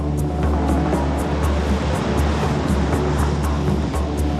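Ocean waves crash continuously at a surf beach in Bali, a loud broad roar of breaking water with steady churning wash and no pause or talking throughout.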